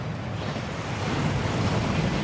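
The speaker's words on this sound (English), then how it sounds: "That waterfall washes away all enchantments." A waterfall inside a Gringotts vault in Hogwarts Legacy, a steady broadband rushing roar of falling water with no break, close and enveloping.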